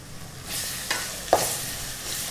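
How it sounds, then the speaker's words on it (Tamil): Ginger and garlic sauté with onions in a hot pan for a coconut chicken biryani, giving a steady close sizzle broken by a couple of brief spoon stirs or scrapes. "இதுவும் நல்லா 2 நிமிஷம் வதங்கணும்."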